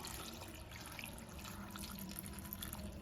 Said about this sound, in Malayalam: വെള്ളം ചേർത്ത് കൊടുക്കണം